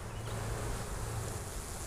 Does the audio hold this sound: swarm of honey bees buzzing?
yes